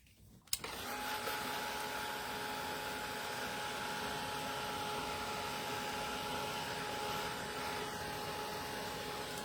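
A handheld dryer switches on with a click and runs as a loud, steady whir to dry paint, close and continuous with no talk.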